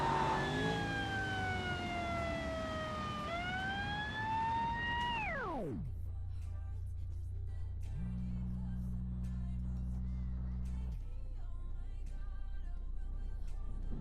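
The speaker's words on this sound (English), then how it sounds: "There goes the siren." Police siren in the BeamNG.drive driving game after a high-speed crash in a car jump arena, a loud wailing tone sweeping for several seconds, then cutting to a low steady horn-like drone with engine rumble beneath.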